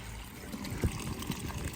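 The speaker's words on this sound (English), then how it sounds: "We are filling up this water so we can actually go feed the bull." Water pours and trickles into a tank being filled for a bull's trough on a farm, a low steady splashing with a few louder gurgles, fairly quiet, with no voices.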